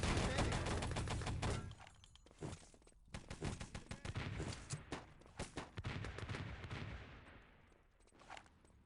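Video game gunfire with Panzer shots: dense rapid bursts of automatic fire and blasts, loud and continuous at first, then sparser shots and short volleys fading toward the end.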